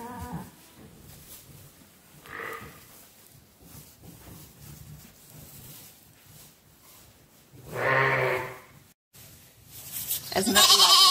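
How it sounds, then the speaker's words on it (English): Lambs bleat inside a lambing shed, with a few separate calls over quiet rustling background: a soft one early, then a louder close bleat and a strong final cry. "I'll bring you out into the lambing shed with me and let you see one or two of cute wee lambs"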